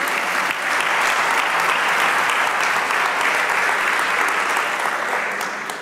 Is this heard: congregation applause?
yes